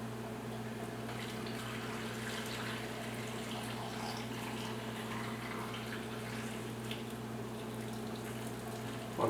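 Brine poured into a jar packed with cucumbers for homemade dill pickles: a steady, continuous stream of liquid filling the jar, with a low constant hum underneath and no voices.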